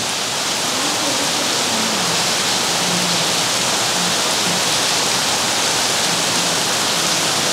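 Steady, loud rain pours down without pause, a dense broadband hiss like a downpour heard close by, with no voices.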